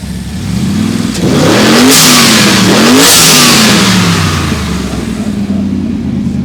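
A car engine revs hard with its turbo spooling up, the pitch rising and dipping through two strong pulls before easing off, loud and close with a rushing hiss of intake and exhaust.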